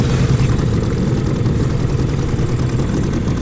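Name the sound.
2 hp Spirit outboard motor on canoe running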